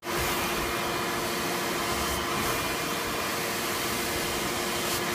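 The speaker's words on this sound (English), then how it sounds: "this wire brush seems to be doing it a bit faster" Steady, loud hiss of a wire brush scrubbing a car headliner board, a continuous dense scratching noise close up that barely varies for several seconds.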